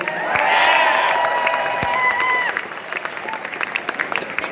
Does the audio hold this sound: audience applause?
yes